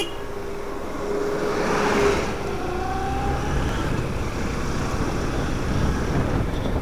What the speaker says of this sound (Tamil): பெரிய பெரிய வண்டியில் இந்த சைடு தான் வருது.